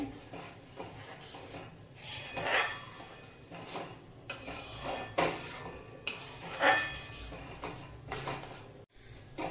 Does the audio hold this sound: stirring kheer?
yes